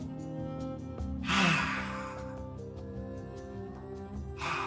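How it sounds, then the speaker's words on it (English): Deep breaths drawn and pushed out through the open mouth during a vinyasa yoga flow, heard as two broad breathy rushes a few seconds apart over steady background music. "open your mouth and now take deep breaths through your mouth"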